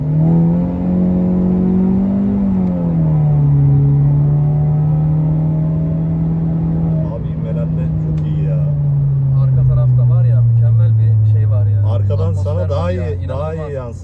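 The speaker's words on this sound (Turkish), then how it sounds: "Egzozumuz açık. İkinci vites 60'lardayım. Bir daha dip gaz yapacağım." A 280 hp FC5 car with an open exhaust runs at full throttle in second gear around 60, its loud, close engine drone holding steady before sliding lower, with raspy crackle in the final seconds.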